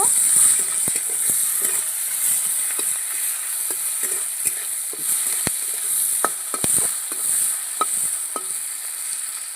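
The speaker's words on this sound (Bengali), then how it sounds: "গোটা জিরে কুচিয়ে রাখা পেঁয়াজ দিয়ে দিচ্ছি পেঁয়াজটা লাল করে ভেজে নেব" Chopped onions and whole cumin fry in hot oil in a pan while Bangladeshi-style rohu fish head chorchori is cooked, giving a constant close sizzle and hiss with scattered scrapes and taps of stirring, without speech.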